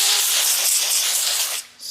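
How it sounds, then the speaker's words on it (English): Cooking oil sprayed from a can onto a baking sheet, a steady close hiss lasting about a second and a half, then a short pause and a brief second burst. "Spray it with some cooking oil"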